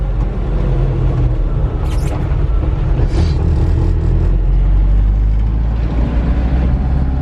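A Suzuki Samurai being driven, its engine rumbling low and steady from inside the cabin, with road noise and a couple of brief higher scrapes or rattles throughout.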